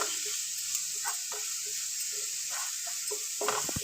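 Crushed ginger, green chilli and garlic sautéing in a pan for an okra curry, a close, steady sizzle broken by scraping stirs and small spatter bursts, with a louder crackle near the end.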